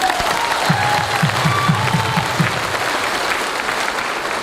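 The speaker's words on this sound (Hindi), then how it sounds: "पटना के लिए एक बार जोरदार ताली होनी चाहिए" An audience claps at a business testimony event, a brief burst of applause from a crowd with some rhythmic beats in it.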